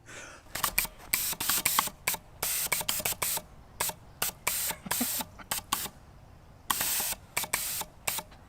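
Gas thrusters on a drone fire in short, sharp hissing bursts, irregular and rapid, with a faint mechanical hum between bursts.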